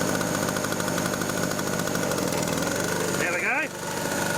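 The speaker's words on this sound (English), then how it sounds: "A bit smoky for a generator, that's a two-stroke, that's what you expect." A Black Ridge two-stroke generator engine running under load, a steady buzzing drone close by, with a brief shift in tone near the end as the load changes and a voice cuts in.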